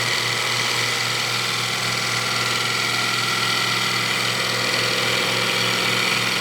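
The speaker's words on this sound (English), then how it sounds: "I'm cutting the waste wood" A bowl gouge cuts waste wood on a spinning wood lathe, giving a steady, loud, continuous motor hum with a hissing scrape laid over it throughout.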